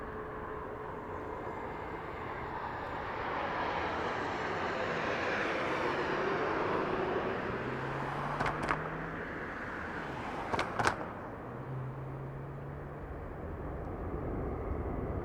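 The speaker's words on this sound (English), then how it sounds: "we have Delta Airlines on the move on the runway" Airliner engines roaring at Las Vegas Harry Reid International Airport, a broad sustained jet rumble swelling gradually as a Delta Airlines plane moves on the runway, with a couple of brief clicks on top and no talk.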